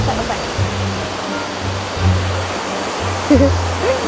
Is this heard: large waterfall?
yes